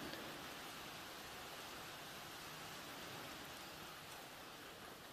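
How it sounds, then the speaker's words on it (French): Water seeps gently out through a wet cloth wick from a container, a soft, steady trickle that carries on without a break and is heard alone at low level. "L'eau s'écoule tranquillement."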